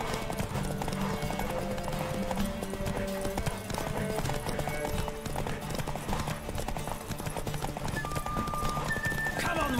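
Rapid rhythmic hoofbeats of a galloping horse in The Witcher 3, close and continuous, with brief whinnies and game music tones layered in.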